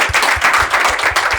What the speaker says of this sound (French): On applaudit très fort pour le Rapadem.